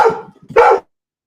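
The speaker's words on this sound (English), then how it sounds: "No wonder his dogs are having a fit." Dog barking at visitors at the door, two loud close barks about half a second apart, with silence after.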